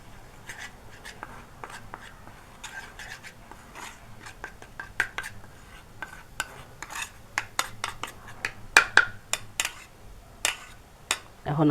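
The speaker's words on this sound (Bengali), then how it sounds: "এই সরষের তেল আর হলুদটা সুন্দর করে মিক্সার করে নিতে হবে।" Turmeric being mixed into mustard oil by hand in a home kitchen, giving soft, irregular scraping and tapping strokes against a bowl, quiet at first and growing busier and louder toward the end.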